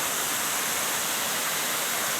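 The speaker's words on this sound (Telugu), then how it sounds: "ఇక్కడ చిన్న వాటర్ ఫాల్ అయితే కనిపించింది." A small waterfall running down hillsides in the rainy season gives a steady, full hiss of falling water, close and unbroken, with no voices.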